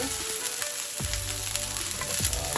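Onions frying in oil in a pan for hot pepper prawns, a steady dense sizzle with a few stirring clatters, close and continuous with no talk.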